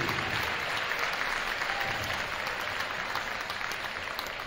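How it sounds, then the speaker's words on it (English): Sustained crowd applause fills a high school gym at a varsity boys basketball game, a dense, steady wash of clapping that holds at full strength without pause. "Now let's give one final round of applause for all of our"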